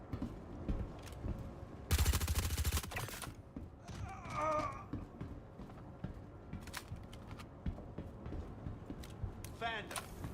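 Gunfire from the video game Star Citizen comes as a loud rapid burst of automatic shots near the start, followed by scattered mechanical creaks and thumps at lower level.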